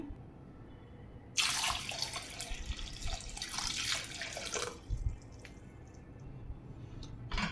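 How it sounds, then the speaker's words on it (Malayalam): Water is poured into pumpkin soup in a pressure cooker, a clear splashing pour lasting about three seconds, then a few quieter drips and splashes. "കുറച്ച് വെള്ളം കൂടെ ഒഴിച്ച് കൊടുക്കാം."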